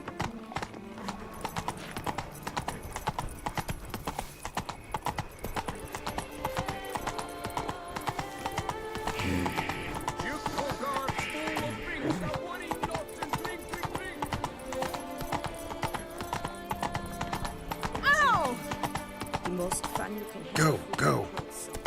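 Roach, the horse in The Witcher 3, clip-clops in a steady continuous rhythm throughout, with brief whinnies, game sounds and someone talking over the hoofbeats.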